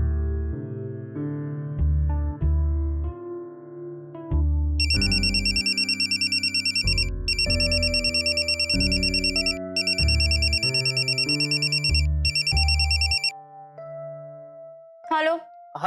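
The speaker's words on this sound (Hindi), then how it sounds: "क्यों ना मीरा जी के घर पे फोन किया जाए" A landline telephone rings in a Hindi TV serial scene, a repeated electronic ring in bursts over a loud musical background score.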